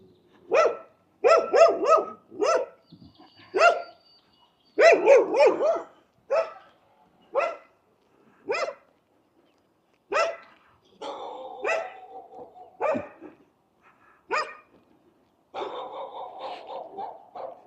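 Dog barking in a suburban street in Innisfail, Queensland, not behind a fence: several bursts of loud, close barks and yips in irregular clusters, with shorter single barks between and some whining or breathing sounds later.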